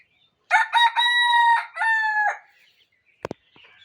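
A native farmyard rooster crows loud and close in one long, drawn-out call with a brief break in the middle, followed by a few short faint clucks and rustles, with no talking.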